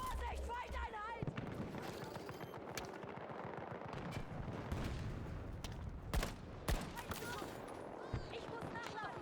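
Rapid bursts of automatic gunfire in the video game Battlefield 2042 crackle in quick clusters with a few sharp louder shots, under game voice chatter.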